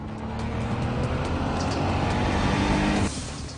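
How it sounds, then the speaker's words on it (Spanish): A Ferrari sports car engine gives a loud, steady roar for about three seconds, then eases off abruptly near the end. "el Ferrari tiene una voz especial. Tiene un gran sonido"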